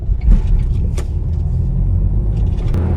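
A Smart car rumbles under hard braking with a couple of dull thunks from newly fitted brakes, close and fairly loud.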